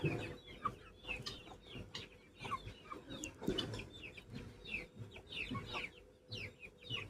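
Chickens and guinea fowl clucking and chattering repeatedly, several birds close by in an outdoor yard, with no one talking.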